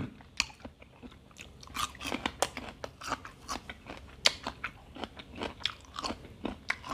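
Loud, close crunching and biting of crisp stink beans eaten with a spicy fresh shrimp salad, sharp crackly bites repeating in an irregular rhythm throughout with no talking.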